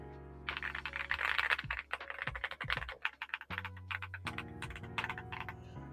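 Typing on a Redragon Eisa K686 Pro SE mechanical keyboard with a plate-mounted build produces quick bursts of crisp, close keystroke clacks, broken by a short pause and then a steadier run.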